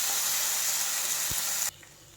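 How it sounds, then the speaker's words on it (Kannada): Loud, steady sizzle of golden-brown onion and freshly chopped tomato frying in a pan for a Kerala-style mushroom curry. The hiss runs unbroken and close, then cuts off abruptly near the end. "ಇದಕ್ಕೆ ಒಂದು ಹೆಚ್ಚಿರೋ ಟೊಮೆಟೊ ಹಾಕ್ಕೊಳ್ಳಿ. 1 ಹಾಕಿದ್ದೀನಿ. ಇದನ್ನು ಒಂದು ಸ್ವಲ್ಪ ಫ್ರೈ ಆಗಬೇಕು"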